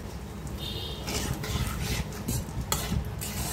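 Cumin seeds and torn bay leaves fry gently in hot oil and ghee with a faint sizzle. A spoon stirs and scrapes in clattery bursts against the pan, and there is no talking.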